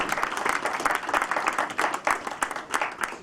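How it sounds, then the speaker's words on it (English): A trade show audience applauds steadily throughout, many hands clapping in a dense, moderately loud burst with no voices. "Andy, I think you deserve a round of applause for that."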